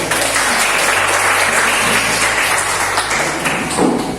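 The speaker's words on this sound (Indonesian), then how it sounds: "Tepuk tangan." Classroom applause for a student after a sung performance, dense steady clapping from the class, loud and close, with a low background hum.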